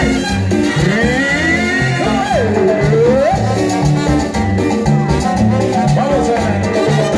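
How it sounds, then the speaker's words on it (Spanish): Live band playing cumbia outdoors at a park, a steady danceable groove of bass, percussion and sliding melodic lines, loud and continuous throughout with no talking over it. "vamos a seguir gozando con más rica cumbia"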